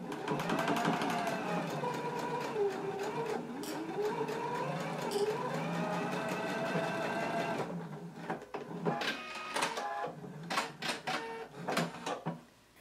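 A sewing machine or serger finishes the edge of a fabric facing for a Simplicity 8889 garment, running in one long steady whirring stretch, then breaking into short stop-start bursts toward the end.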